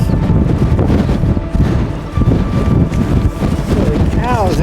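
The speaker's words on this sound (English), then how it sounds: "We did not stay long at Dunnet Head due to the crazy cold wind." Strong cold wind buffets the microphone at Dunnet Head on a bikepacking trip, a loud continuous low roar with gusting swells and no break across the clip.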